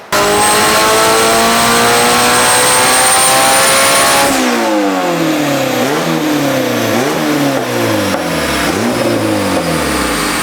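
A turbocharged Honda B18C engine screams at high revs during a dyno pull, a loud sustained wail that cuts off abruptly, then falls into lower burbling, popping revs close by with no talk.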